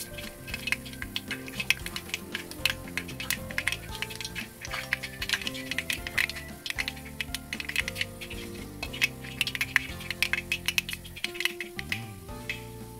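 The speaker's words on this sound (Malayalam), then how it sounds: "കടുകെല്ലാം പൊട്ടിക്കഴിഞ്ഞു" Mustard seeds crackle and pop in hot oil while making a sweet-and-sour lemon-dates pickle, a dense rapid patter of sharp close ticks over a steady sizzle, with faint metallic clinks from the pan.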